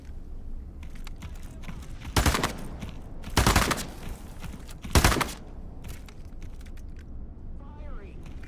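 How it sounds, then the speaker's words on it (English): Three loud, sharp sniper rifle shots crack out a second or so apart in the VR game Into The Radius 2, over a low background rumble and faint clicking. "It's a sniper."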